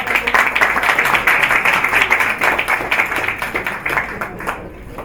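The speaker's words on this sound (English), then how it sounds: "I'll give them a massive round of applause" A live audience at a company launch event bursts into loud, sustained applause, many hands clapping close and full before tapering off toward the end.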